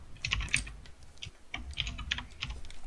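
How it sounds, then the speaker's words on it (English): Loud, rapid clacking of a mechanical computer keyboard during an online tabletop role-playing session, with bursts of keystrokes continuing steadily and close to the microphone. "your keyboard is horrendously loud"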